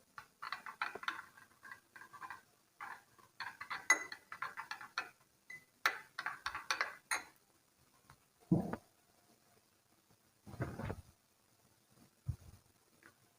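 Sugar mixed into a bowl of fruit chaat makes soft irregular clicks and taps of a spoon against the bowl, close but faint, in scattered bursts with quiet gaps and no talk.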